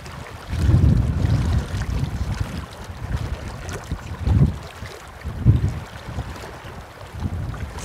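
Gusty wind buffets the microphone on Montana's Big Hole River during June fly fishing, coming in uneven low rumbling bursts over a faint background of moving water, with no talking.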